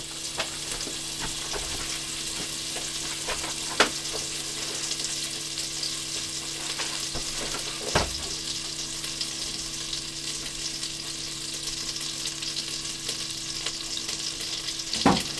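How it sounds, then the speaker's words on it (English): Onions fry in melting butter, about three-quarters of a stick, in a pan for potato ham soup, with a steady close sizzle and crackle throughout and a few sharp pops standing out, and no one speaking. "Have it start melting, and I'm going to go in directly with some onions."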